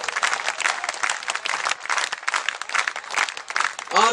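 Audience applauding at a Hindi poetry recital, steady dense clapping throughout with crowd noise, fairly close and loud, rising slightly at the end.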